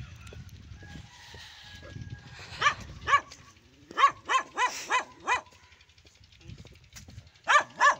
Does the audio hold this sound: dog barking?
yes